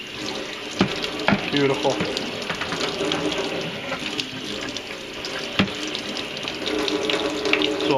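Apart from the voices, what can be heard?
cold tap water running over heated PVC bow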